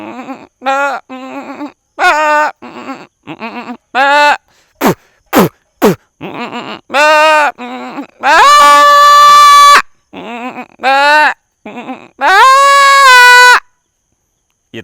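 A man imitates a goat bleating with a string of loud, wavering, nasal bleats, some short and choppy, others long and quavering, separated by brief silences, up close and alone.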